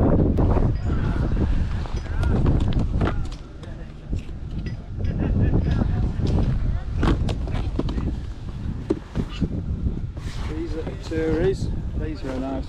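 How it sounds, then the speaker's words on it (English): Strong wind roars across an outdoor boot sale, buffeting the microphone in heavy low gusts while people talk nearby. "Windy. Very windy."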